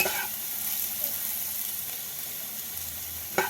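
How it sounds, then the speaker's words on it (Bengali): Boiled potatoes with eggplant sizzle as they brown in an open pan with fenugreek greens. A steady, even hiss carries on throughout, with one small crackle near the end. "আলুটা লাল করে ভাজা হয়ে গেছে"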